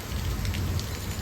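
Steady rain falling on a surface, a dense continuous patter with occasional distinct drops, close and even throughout.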